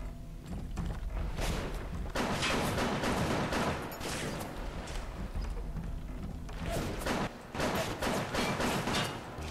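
Continuous shooting in Bioshock, loud repeated gunshots in dense rapid bursts with short pauses, sustained and close throughout.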